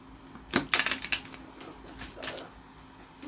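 A crisp burst of riffling cards up close, a quick ruffle followed by a softer second flutter, then quiet.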